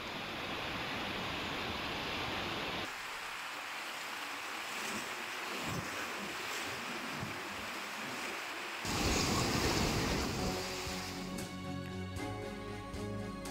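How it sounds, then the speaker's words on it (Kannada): Water released through 24 dam gates into a river roars as a loud, continuous broadband rush, with wind buffeting the microphone and a shift in tone partway through. "24 ಗೇಟ್ಗಳ ಮೂಲಕ ನದಿಗೆ ನೀರು ರಿಲೀಸ್ ಆಗ್ತಾ ಇದೆ"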